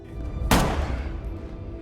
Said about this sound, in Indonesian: tiba-tiba Santo mendengar suara tembakan